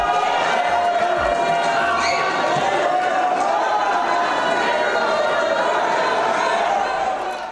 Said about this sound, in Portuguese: E a gente vai ouvir essas vaias e não foram poucas, hein?